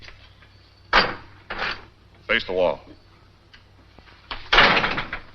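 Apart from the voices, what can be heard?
door being kicked shut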